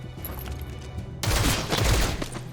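Gunfire in the video game XCOM Chimera Squad erupts suddenly after a quiet lead-in, a loud, rapid volley of overlapping shots that rattles on to the end.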